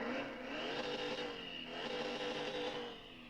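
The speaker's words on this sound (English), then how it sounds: "We're going to start the car." A car engine revs and drones continuously in the game Car Mechanic Simulator 2021, its pitch rising and falling, with a synthetic, game-like engine tone and no talking.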